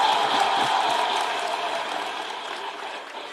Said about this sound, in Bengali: ইমোশনসের জন্য বটেই, জোরে হাততালি।